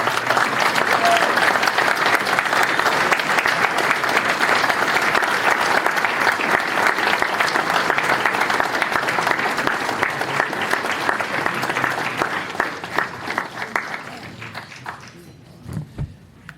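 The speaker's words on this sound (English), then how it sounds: "we will have them give a huge Alberley round of applause." Applause from an audience at a hall of fame induction ceremony in Albert Lea, loud and sustained, with dense clapping that thins out and fades near the end.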